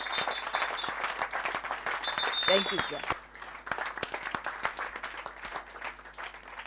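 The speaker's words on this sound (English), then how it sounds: "make we clap for her, make we clap for her" Audience clapping at an outdoor broadcast program event, steady applause with a few sharp claps that fades as someone speaks briefly over it.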